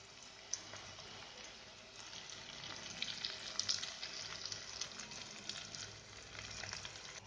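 Fresh curry leaves frying in hot oil with onion, green chillies and asafoetida for rasam, a steady close crackling sizzle with scattered sharp pops throughout.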